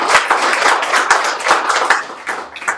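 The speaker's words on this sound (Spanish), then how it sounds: "Un aplauso, por favor." Audience clapping at a feminism forum, a short burst of dense handclaps with sharp individual claps standing out, close and fairly loud, fading slightly near the end.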